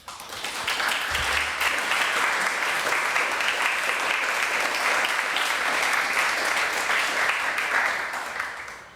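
A lecture audience gives sustained applause welcoming artist Babette Mangolte, a dense, even wash of clapping that builds quickly, holds steady for several seconds and fades at the end.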